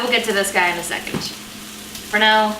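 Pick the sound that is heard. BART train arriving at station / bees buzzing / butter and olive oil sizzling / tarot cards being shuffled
butter and olive oil sizzling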